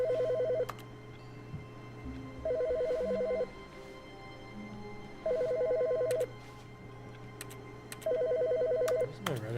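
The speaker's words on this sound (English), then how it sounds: "Whoa, a phone ringing?" A telephone rings in The Stanley Parable video game, four evenly spaced electronic ring bursts over a quiet ambient hum, moderately loud and alone.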